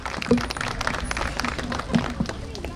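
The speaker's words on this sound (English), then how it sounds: "Give her a round of applause." Applause from an outdoor crowd at a Thanksgiving parade plaque presentation in New Caney: a steady, noisy wash of clapping at moderate level, with a few sharper claps and faint voices mixed in.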